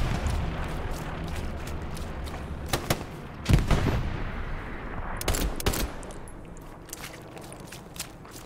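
Gunfire crackles through a tactical team shooter match, with dense, rapid bursts over constant background noise and a louder, heavier volley near the middle, then scattered shots and faint footsteps.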